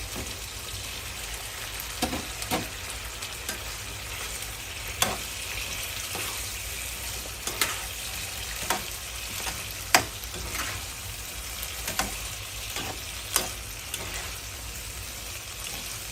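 Eggplant frying in an oily pan for a Thai baked eggplant and egg dish makes a continuous close sizzle, broken by repeated clicks and scrapes of stirring at irregular intervals.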